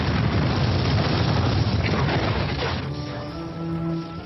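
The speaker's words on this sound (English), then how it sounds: "late one night there was a massive explosion." A massive explosion blows up a house by the city walls late at night, heard as a long, loud, rumbling roar that slowly fades into a lower, steadier hum.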